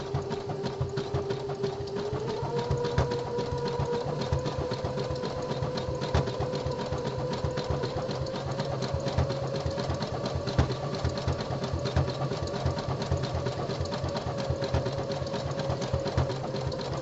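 A home sewing machine stitches a boxer brief body panel steadily at a fast, even rhythm, close up, its motor humming beneath the rapid needle clatter.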